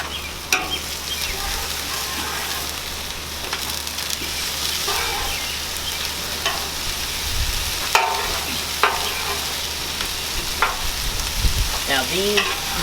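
Shrimp for cilantro lime tacos sizzling steadily in a hot pan, with intermittent scraping and clacking as a spatula stirs and flips them, loud and close.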